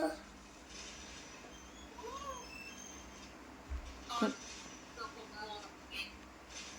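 Faint, short cat meows come a few times at a home where children are doing homework, surfacing briefly over quiet room noise and a soft thump.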